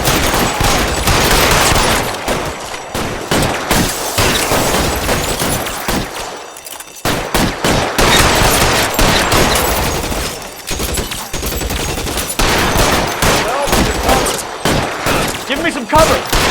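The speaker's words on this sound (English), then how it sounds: "I'll lay down some suppression fire." Suppression gunfire in a L.A. Noire shootout rattles almost nonstop as loud, dense bursts of rapid shots, broken by one brief lull, while voices call out beneath the racket.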